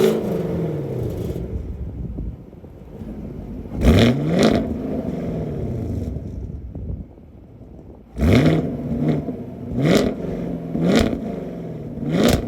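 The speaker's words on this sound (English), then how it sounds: "we're gonna go ahead and start this baby up, and then I'm going to let you guys hear the exhaust" A Chevrolet Camaro with an LT1 engine starts up, then its exhaust is revved repeatedly, a loud close roar swelling in several blips between idling lulls, with no voices.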